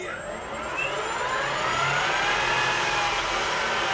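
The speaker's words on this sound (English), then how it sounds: "When I flip it into idle, it'll go to my idle set RPM" A small RC model's electric motor whines at high pitch and spools steadily toward its set idle speed, the smooth tone rising slightly and holding close and fairly loud.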